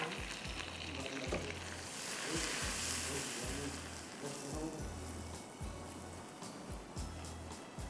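Maida flour being dry-roasted in a pan gives a steady, close crackling sizzle with a low, rhythmic pulsing underneath, alone without any voices.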